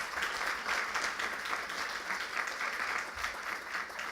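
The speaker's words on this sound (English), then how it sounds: "Let's give our board a round of applause," A school board meeting audience gives the board a round of applause: a steady, fairly faint patter of many hands that goes on without a break.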